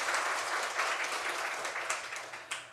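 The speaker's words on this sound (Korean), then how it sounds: "우리 하나님께 영광의 박수 올려드리겠습니다" A church congregation at a Sunday worship service claps together in steady, dense applause that stays fairly even throughout, heard at a moderate distance in a reverberant hall.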